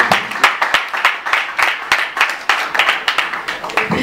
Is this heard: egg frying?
no